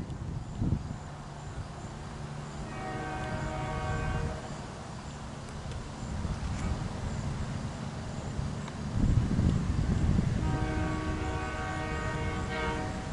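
A CN freight train sounds its horn at a level crossing in two long, loud blasts and then a third. The train rumbles steadily underneath as it passes close by.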